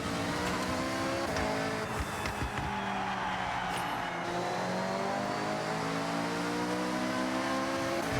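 Racing cars in the video game Forza Horizon rev and accelerate with whining engines, rising and falling gear changes and brief tire squeals, a loud continuous stream of motor noise with no speech.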